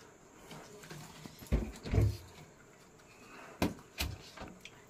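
A dog plays indoors, making a few scattered thumps, scuffs and bumps at close range, with quiet gaps between them and faint background hiss.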